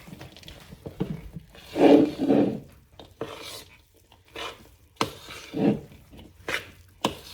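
Cookie dough is mixed by hand in a bowl, producing uneven scraping and thudding strokes in bursts with quiet pauses between, close and moderately loud.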